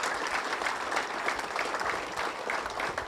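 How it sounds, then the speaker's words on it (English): Dense, steady audience applause fills a bowling center at a high school state finals morning session, sustained and even throughout. "give all of those volunteers and people a round of applause"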